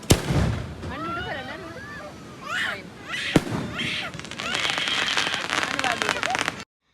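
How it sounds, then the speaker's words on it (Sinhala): Fireworks go off at night at a beach resort in the south of Sri Lanka, with scattered pops and crackling bursts, some near and some far, rising into a dense rattling spell before cutting off. "හැමදාම රෑට 9:00 වෙනකොට මේ වගේ මල් වෙඩි දානවා"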